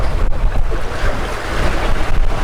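Wind and swell rolling a sailing catamaran at sea, broadside to waves from the southwest and wind from the southeast: a loud, steady rush of wind noise and washing water with rhythmic surges, no voices.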